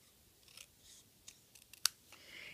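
Scissors cut paper in a series of quiet, close snips and rustles, with one sharper louder snip near the end and no talk.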